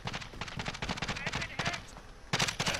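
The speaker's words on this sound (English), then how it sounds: "Bullets." Rapid bursts of automatic gunfire crackle in Call of Duty Warzone, coming in clustered volleys with brief gaps, fairly distant and moderately loud, with a voice speaking at times.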